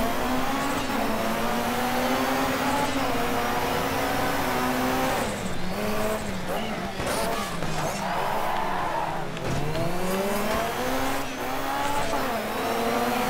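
Rally car in the racing game Dirt 3, a loud continuous engine roar that climbs and drops through gear changes, with gravelly skidding and tire noise underneath, close and dominant for the whole stretch.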